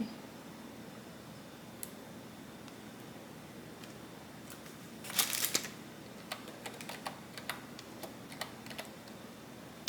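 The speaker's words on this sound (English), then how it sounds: "Well, I'm gonna have to type it in, aren't I?" Keyboard typing, faint at first, then a short burst of quick clicky keystrokes followed by scattered taps in a quiet room.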